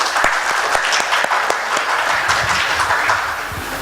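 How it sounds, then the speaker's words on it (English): Enthusiastic applause from a conference audience at an academic technology event, dense sustained clapping filling the room, loud and continuous with no speech over it. "it really need a huge round of applause"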